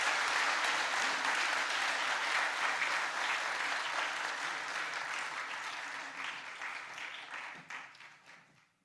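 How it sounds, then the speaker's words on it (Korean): A church congregation applauds during an ordination and retirement thanksgiving service as elders come forward for badges, a full, dense round of clapping that holds steady and then fades out toward the end. "보통 이럴 때 박수를 하더라고요."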